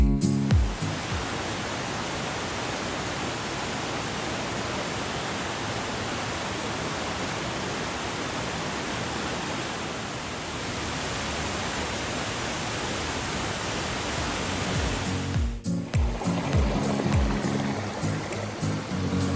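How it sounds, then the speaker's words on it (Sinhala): Waterfall beside the road between Gampola and Nuwara Eliya, heard as a loud, steady broadband roar of rushing water that holds without a break and shifts slightly near the end. "මේ ගමන අතරමඟදී ලස්සන දිය ඇල්ලක් දැක්කා"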